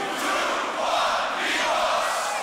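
A large beatbox battle crowd at the Grand Beatbox Battle 2021 World League quarter final roars and shouts together in a steady, loud, dense wall of voices with no gaps.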